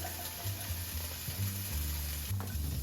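Broccoli rabe, dandelion greens and onions sizzle softly in a pan, a faint steady frying hiss with low background hum, no voices.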